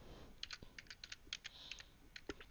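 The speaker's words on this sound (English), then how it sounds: "I'm typing slow." Quick, light clicks of typing on a computer keyboard, irregular and close but faint, with no talking over them.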